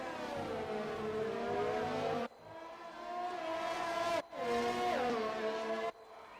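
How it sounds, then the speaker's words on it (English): Formula 1 car engines wail in the F1 2020 video game during a championship race, high-pitched revs climbing and dropping through gear changes. The sound is loud and continuous, with a few abrupt cuts between passages and no talking. "See Bottas catching up on those straights with the slipstream and the powerful Mercedes engine"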